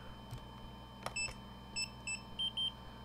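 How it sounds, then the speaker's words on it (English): FPV goggles for a cinewhoop drone emit short electronic beeps, a few single tones followed by a closely spaced double beep confirming binding, clear over a quiet background hum. "that double beep means that it's bound"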